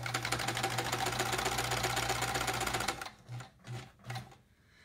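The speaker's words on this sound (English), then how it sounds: "I'm gonna sew the other side." A sewing machine stitches fabric while a quilt block is sewn, a steady fast mechanical chatter for about three seconds, followed by a few short, quieter bursts as the machine starts and stops.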